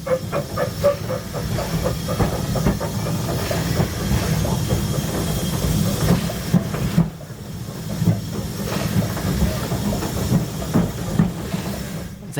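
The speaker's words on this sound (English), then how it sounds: "both big and small trains can race side by side" Two steam locomotives on standard and narrow gauge lines run side by side up close, a continuous loud hiss and chuffing with rhythmic rail clatter, the sound dropping briefly midway before resuming.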